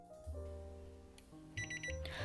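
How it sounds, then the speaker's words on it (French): Several short electronic beeps from a device signalling a speed-level change ring out over a soft background hum, with a brighter tone cluster near the end. "Un bip sonore vous indiquera le changement de vitesse."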